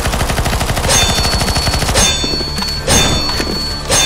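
Rapid automatic gunfire hammering at a boss in CS:GO Zombies, loud and continuous, with dense rattling shots and a few heavier impact bursts layered over it.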